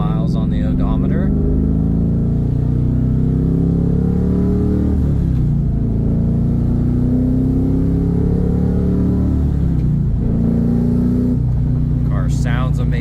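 A 2002 Pontiac Firebird Formula Trans Am on a test drive, its engine droning steadily from inside the car with a couple of dips and rises as it shifts, continuous and fairly loud, with no talk.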